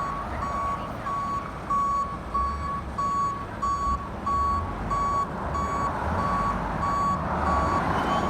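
A tow truck reverses at a Mesa road accident, its backup alarm beeping loudly and regularly, roughly once per half second, over a throbbing diesel engine.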